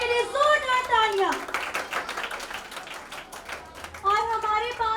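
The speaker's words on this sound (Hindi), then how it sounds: "एक बार जोरदार तालियां इन तमाम संडे स्कूल टीचर्स के लिए, जोरदार तालियां" Children and adults clapping for Sunday school teachers at a kids' church convention, a burst of applause in the middle framed by a voice speaking before and after.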